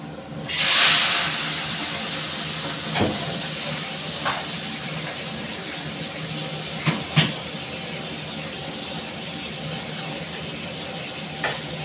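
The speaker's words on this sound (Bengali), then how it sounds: "তেল কড়াইতে গরম হয়ে গেছে, মাছগুলো এবার ভাজি" Small morola fish, coated in salt and turmeric, drop into hot oil in a kadai with a loud burst of hiss, then settle into a steady close sizzle broken by a few sharp pops.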